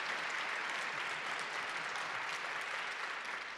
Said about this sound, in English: another round of applause for those great women